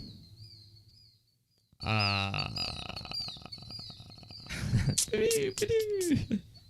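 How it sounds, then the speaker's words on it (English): A small bird chirps with a high, thin repeated call near the start, then people talk and laugh loudly over it, the chirps continuing faintly beneath the conversation. "I hear the bird. Listen to the bird."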